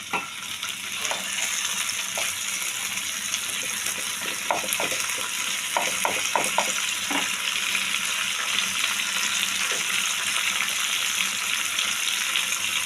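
Potatoes and peas frying in a pan with tomato and green chilli, a steady close sizzle with scattered stirring scrapes and clicks throughout, no talking.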